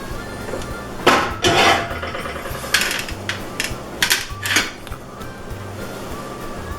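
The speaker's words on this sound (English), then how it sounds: "I just run a butter knife around the edges" Butter knife run around the edges of a metal bread pan: a handful of short scraping and clinking strokes, close and fairly sharp, with quiet gaps between them.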